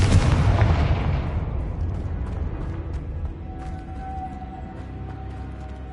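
A Confringo fire spell explodes in the Hogwarts Legacy video game: a loud, booming burst at the start fades into a long rumbling tail with faint ringing, and no voices are heard.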